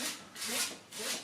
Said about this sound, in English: we're just going to give it a good wipe over in the area where we want to do the ballasting